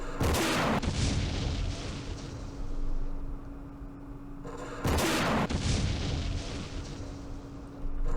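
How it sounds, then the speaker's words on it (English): A recoilless rifle fires twice in the Campaign Series Middle East war game, each a loud booming blast followed by a long rumbling decay, spaced several seconds apart. "Recoilless rifle. As long as it's firing there, that's okay."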